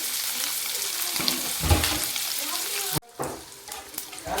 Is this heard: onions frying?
yes